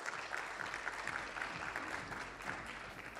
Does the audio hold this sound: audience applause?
yes